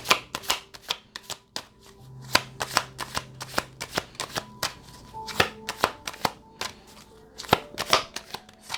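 Tarot cards being shuffled and drawn, a close series of sharp riffling slaps and flicks in an uneven rhythm, loud and alone without talk.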